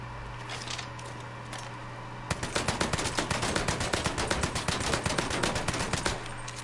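Rapid bursts of gunfire from a gun in the video game Mafia 3 start partway through and fire in a fast, steady volley, loud and close, over a constant low game hum with no talk.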